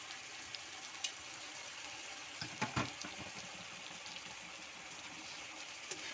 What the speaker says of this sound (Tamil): நம்ம எடுத்து வச்சிருந்த புளியை வந்து நல்லா ஊறிடுச்சு. அந்த தண்ணியை மட்டும் இதில் ஆட் பண்ணுறோம்.